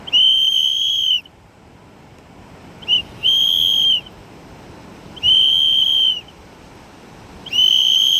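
Someone whistles four long, steady high notes with gaps between them, loud and close, plus a short blip before the second note.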